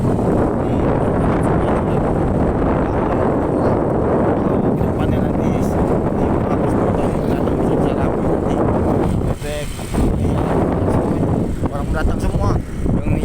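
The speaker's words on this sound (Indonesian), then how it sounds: "Ini suasananya angin sepoi-sepoi" Steady wind buffeting the microphone in an open garden plantation in Indonesia, a continuous loud rushing roar with a brief lull near the end.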